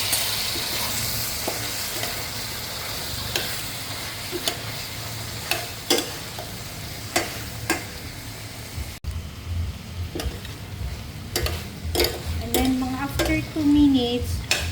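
Mixed mushrooms sizzling in oil in a frying pan for beef with mixed mushrooms, a steady crackle broken by repeated sharp clinks and scrapes of a utensil stirring against the pan, with brief talk near the end.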